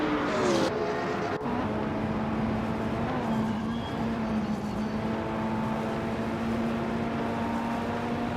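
Steady, loud engine drone from a 2018 Ferrari 488 GT3 in a racing video game sprint race, holding a constant pitch after a brief opening surge, with other cars faintly passing in the background.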